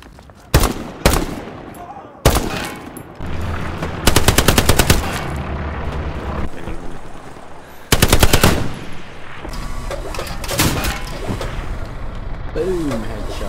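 Rapid bursts of automatic machine-gun fire and single rifle shots ring out in a Hell Let Loose battle, loud and close, with gaps between volleys and faint talk underneath.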